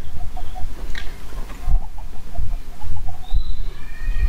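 Chickens cluck in a Minecraft automatic egg farm, with short repeated game clucks and higher squawks scattered at moderate loudness over a low background rumble, with no talking.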